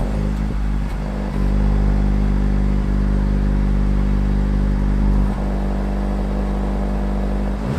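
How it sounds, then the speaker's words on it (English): A 2024 Honda Civic Type R drives on the road with a steady, loud engine drone and low rumble throughout, its pitch shifting slightly as it goes, with road and wind noise layered over it and no talking. "Let's get the 2024 Civic Type R on the road."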